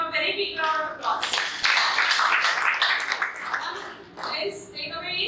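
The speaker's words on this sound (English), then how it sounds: "Give him a very big round of applause." Classroom audience at a free entrance-exam training session clapping: a short burst of applause of a few seconds, with a voice speaking just before and after and partly over the clapping.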